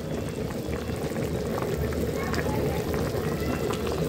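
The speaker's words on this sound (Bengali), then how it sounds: "চড়াই দেওয়া হলো ইলিশ মাছ রান্না।" Chandpur hilsa fish curry, a Bengali ilish bhuna, simmering in a pan: a steady, close bubbling sizzle that runs unbroken throughout, with a voice talking softly underneath.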